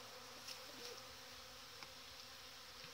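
Honeybees buzz at a hive in a family apiary in February, a faint, continuous low hum with a few brief louder passes of single bees, no voices present.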